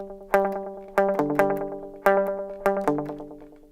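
Electric guitar plays two bars of picked notes through an effects unit with distortion and chorus, each attack ringing out and decaying, in a steady phrase heard alone and close.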